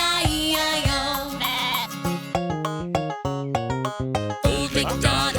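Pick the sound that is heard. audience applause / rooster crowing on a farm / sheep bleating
sheep bleating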